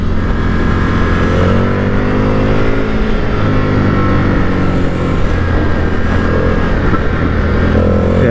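A 2022 Indian FTR Carbon motorcycle rides over a series of bumps, its engine droning loud and steady with shifting pitch and rising revs, heard close from the bike with wind rush and no talk.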